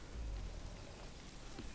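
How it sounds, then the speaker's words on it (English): Steady rain falling in the Bramble: The Mountain King video game, a soft continuous hiss with a low rumble underneath, no voices. "It's raining and it's nice."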